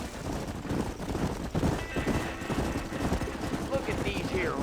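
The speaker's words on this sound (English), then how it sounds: "Look at these here horses." Horses in Red Dead Redemption clop and shuffle at moderate distance, hooves thudding irregularly beneath faint background activity, with a soft neigh-like cry near the end.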